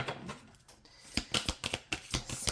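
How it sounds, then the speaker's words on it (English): Tarot cards being shuffled by hand at close range, a soft riffling start followed by a run of quick crisp snaps and flicks, quiet and alone. "Let's do one more shuffle."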